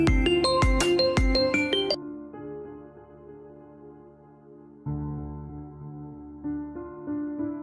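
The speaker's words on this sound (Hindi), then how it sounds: "गुल्ली का फ़ोन बजता है" A mobile phone rings with a melodic tone in a short repeating tune. The ringing is moderately loud and plays alone, with a brief pause between phrases.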